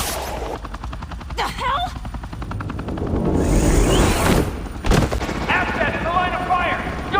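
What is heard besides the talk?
gunfire from cops shooting in Batman Telltale video game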